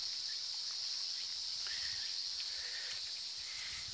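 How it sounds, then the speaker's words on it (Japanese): Cicadas sing in a Japanese park in early autumn, a steady high shrill drone running unbroken throughout at a moderate distance, with faint scattered rustles and no talking. "セミの音が聞こえるかな。"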